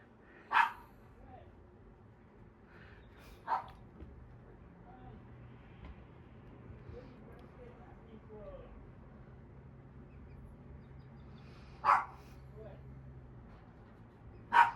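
Dogs barking in short separate bursts, a few sharp barks spaced several seconds apart over low background hum and faint voices, as if waiting to be fed.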